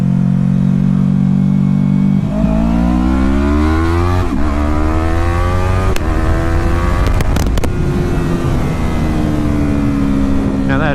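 A 2016 R3 motorcycle engine drones loudly, then revs climb in rising pitch through gear changes as it accelerates downhill, close and continuous.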